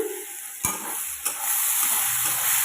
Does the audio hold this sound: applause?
no